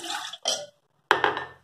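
Water poured into kadhi batter in a home kitchen, heard as three short splashing bursts, the last one longer and louder, separated by brief silences.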